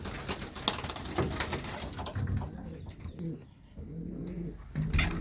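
Malwai breed pigeons cooing close by in a loft in soft, repeated throaty calls, layered over a busy rustling background with no talking.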